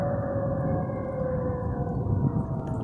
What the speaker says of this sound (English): If you've never heard the tornado warning siren, it's pretty eerie and kind of freaky.